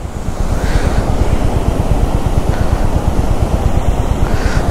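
A fast, snow-fed mountain river roars beside a damaged road on the way to Killar, a loud continuous rushing wash of water with wind buffeting the microphone and no talk.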